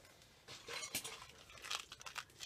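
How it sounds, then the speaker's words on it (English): Lampwork glass beads and other glass and metal beads handled at close range, giving faint clinks and small rattling taps in a loose, irregular patter. "these are lampwork glass and some other glass beads"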